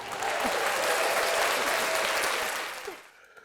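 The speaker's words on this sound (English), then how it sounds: "Can we get a round of applause?" A studio audience breaks into steady, dense applause for a podcast's first caller, holding strong for nearly three seconds before tapering off abruptly.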